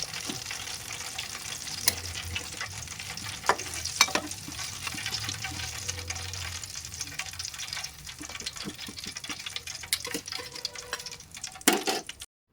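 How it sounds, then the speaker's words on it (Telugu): Batter-dipped chicken pieces deep fry in hot oil for KFC-style fried chicken, giving a loud, steady, close sizzle with crackling bubbling and occasional sharper pops throughout. "మిగిలిన పీసెస్ని కూడా సేమ్ ఇలానే పిండిలో డిప్ చేసి డీప్ ఫ్రై చేసుకుంటే సరిపోతుంది"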